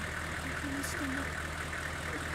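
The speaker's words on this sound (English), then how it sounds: "the only sound either of us could hear in this dense, dark forest was that of the truck's engine idling away" In the video game Corpse Party, a truck engine idles in a dense, dark forest as a steady low rumble that runs unbroken through the whole stretch, with faint ambient noise above it.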